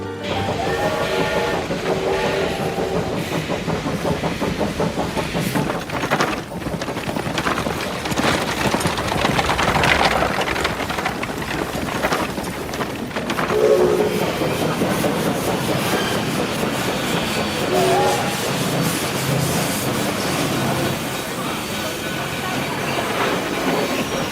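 A train rolls along the rails with a rhythmic clickety-clack of wheels, metallic squeals and clanks rising and falling, loud and close throughout, with faint voices now and then.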